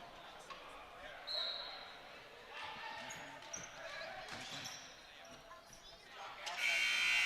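A long electronic buzzer blares near the end of a basketball game, following steady crowd noise and commentary in a busy arena.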